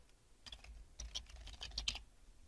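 Quick typing on a PC computer keyboard, a short burst of soft, close key clicks with brief pauses between clusters of strokes, heard alone.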